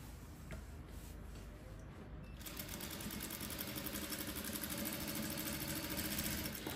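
A straight-stitch sewing machine sews a shirred dress made with elastic thread, running in a steady, fast mechanical whir that picks up and grows louder partway through and carries on continuously, close by with no talking.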